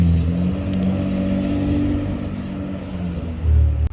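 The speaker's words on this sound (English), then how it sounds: "Engine's all running mint." A BMW E36 with an M52 engine and M54B30 camshaft runs at a loud, steady idle close by, with a slight rise in revs near the end.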